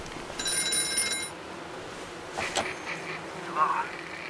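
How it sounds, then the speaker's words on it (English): Video game telephone ringing in the horror game White Night, a short buzzy electronic trill near the start followed by quieter knocks and faint tones, with someone talking briefly. "You don't need two hands to pick up a phone"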